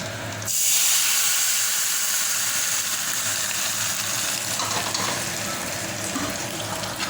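Hot spice tempering poured into spinach khichuri, bursting into a loud hiss after half a second that settles into a steady, sustained sizzle, close and alone with no talking.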